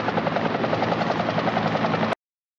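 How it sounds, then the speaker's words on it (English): A helicopter in the 1978 war film The Deer Hunter drones with a loud, steady rotor thrum that holds evenly for about two seconds and then cuts off abruptly into silence. "Oh, there's a helicopter."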